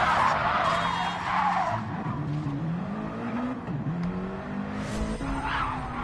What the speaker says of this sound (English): A little bit of oversteer there.